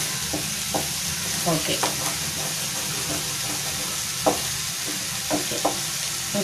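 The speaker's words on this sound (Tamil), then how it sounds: "எக்கு நல்லா ஊத்தி பிரட்டிட்டு இருக்கோம்" Egg fried rice being stirred in a hot pan, a constant sizzling fry hiss broken by scattered scraping clicks of the spatula, with a brief word spoken partway through.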